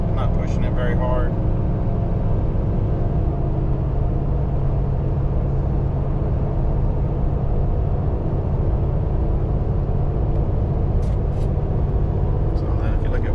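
A 2024 Duramax diesel Denali pickup on 37-inch tires accelerating gently at quarter throttle while towing a 43-foot toy hauler RV: a steady low engine drone and road roar inside the cab, with someone talking over it.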